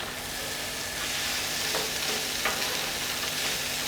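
Pre-made frozen potatoes fry in a pan with a loud, dense, continuous sizzle that holds steady, with a couple of faint scrapes partway through.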